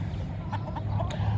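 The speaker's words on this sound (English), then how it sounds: "That's the oldest rooster" A rooster, the oldest of three in a backyard chicken coop, gives a few short clucks over a steady low background hum, brief and fairly close.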